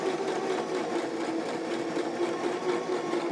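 Sewing machine stitching two layers of fabric held lined up, running at a steady even whir for the whole stretch, close and continuous with no talk.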